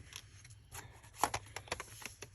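Scissors snip through a strip of 6x6 craft paper, giving a series of short, close cutting crunches in quick irregular succession, with no talking.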